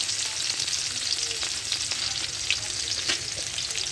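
Five-spice tempering with garlic and onion fries in hot oil, giving a steady close sizzle with occasional stirring clicks and pops throughout.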